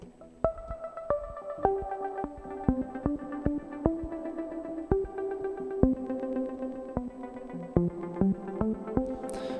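A synth in Ableton Live 9 plays a slow sequence of plucked notes, each tail smeared into a washy reverb on a parallel chain that blurs them together.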